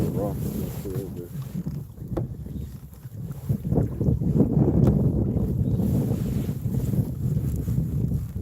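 Wind gusting outdoors by the water during bluegill and smallmouth bass fishing near rocky pillars in the shallows: steady low buffeting rumble on the microphone with splashy water sounds, continuing without a break.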